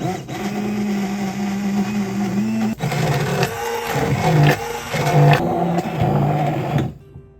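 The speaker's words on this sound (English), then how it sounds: "now that I have an immersion blender, thank you guys, that's what we're gonna use to mix up our icing" An immersion blender whirs through cinnamon roll icing, a steady high motor drone that shifts pitch as the mixture thickens, with brief stops and restarts before cutting off at the end.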